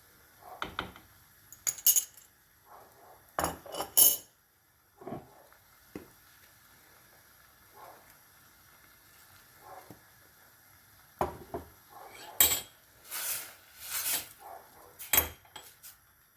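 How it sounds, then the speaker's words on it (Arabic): Stirring flour into mushroom soup broth in a pot, a spoon clinking and scraping against the metal in scattered bursts, some quick and sharp, with quiet gaps between strokes and no talk. "ونقعد نحرك فيها باش الفرينه هذيكيا ما تعملش التكتلات"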